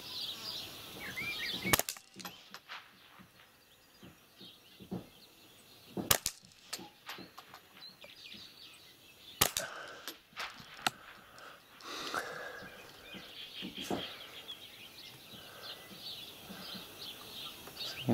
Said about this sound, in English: we're just going to check the zero on the 22. It's using Winchester PowerPoint ammo